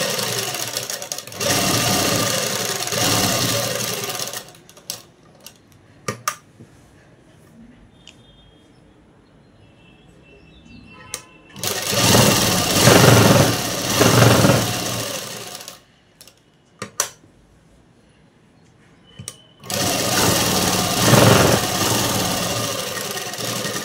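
A sewing machine stitches a Kalamkari dress in three loud bursts of rapid mechanical whirring, separated by quieter pauses with small clicks and handling noises.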